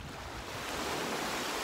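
Ocean waves breaking and washing up on a beach at Nusa Dua in Bali, a loud continuous rushing surf with wind buffeting the microphone.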